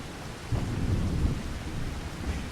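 Heavy rain pours steadily in the Farming Simulator 25 video game while deep thunder rolls in and rumbles loudly beneath the constant hiss.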